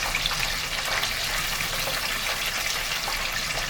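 Steady, loud sizzling and crackling of chicken wings frying in hot oil, continuous and even throughout.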